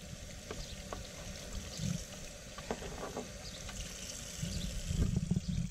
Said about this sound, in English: That's why you gotta have running water.